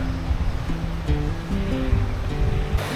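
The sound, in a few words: Hebbe Falls waterfall and stream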